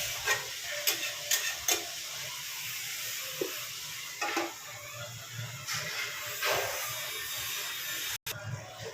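Dry spices sizzling and frying in oil in a pan, a steady hiss with intermittent scraping stirs and clinks, fairly close, no voices.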